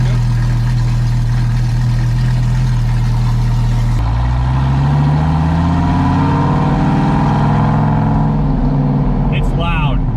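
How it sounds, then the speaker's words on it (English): A straight-piped Dodge Viper idles very loud and close, a deep continuous rumble with a choppy cam lope that shifts in tone partway through. "You can hear the cam at idle now too, like hear that chop."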